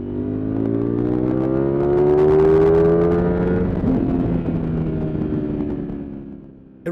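A Ducati Streetfighter V4 S motorcycle accelerates hard up through the gears, its engine note climbing in pitch in rising sweeps, loud and close. It eases off toward the end, with no voices over it.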